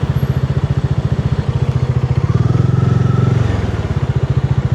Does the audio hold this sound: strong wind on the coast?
no